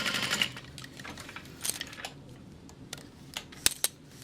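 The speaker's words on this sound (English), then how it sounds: "So I'm just sewing down one side, then back up the other" A sewing machine stitches the front pocket seam of a Riva Mini backpack, heard as quiet, intermittent bursts of needle clatter with short pauses and a few sharp clicks near the end.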